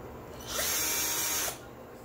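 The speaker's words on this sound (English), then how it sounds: "all you need to do is just to insert and then drill" A power drill whirs steadily for about a second drilling into a wood frame for a clutch purse, a close, loud, continuous high-pitched motor sound with short quiet pauses before and after.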